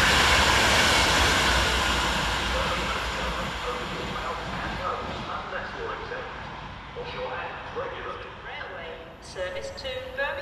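A Class 390 electric train, unit 390.008 running from Manchester Piccadilly to London Euston, passes through Stafford station, a loud rushing roar that is strongest at first and slowly fades, with announcements or talk sounding over it.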